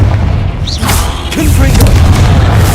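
Booming fire-spell blast from the Confringo curse in the video game Hogwarts Legacy, a loud, continuous low rumble with crackling bursts throughout, with a voice over the top.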